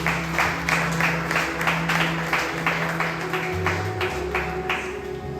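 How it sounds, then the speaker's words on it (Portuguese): Church congregation applauding in a sustained, moderately loud wash of clapping with rhythmic pulses, mixed with low sustained organ or keyboard tones underneath. "Você pode aplaudir o nome do Senhor Jesus?"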